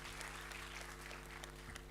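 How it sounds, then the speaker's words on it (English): Audience applause at an International Women's Day celebration event, a steady wash of clapping from a seated crowd, fairly loud and continuous throughout with no talk over it. "Please give a great round of applause for Dr."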